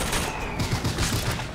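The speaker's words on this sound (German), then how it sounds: "Oh, ein kleines Feuerwerk gezündet." Fireworks set off in Bioshock Infinite, a rapid series of crackling pops and bangs in an even rhythm over a bright hissing game background, fairly loud with no talk.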